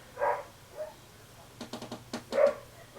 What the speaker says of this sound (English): I do apologise for the dog.